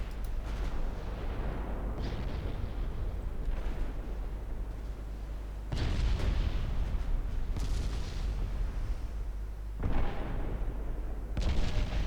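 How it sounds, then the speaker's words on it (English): Warship guns in a naval video game blasting at a light cruiser: repeated heavy booming salvos, loud and rumbling, several distinct volleys over a constant low roar. "And now my guns are really starting to rip that light cruiser apart"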